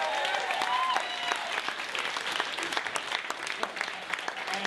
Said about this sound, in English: Round of applause for my brother.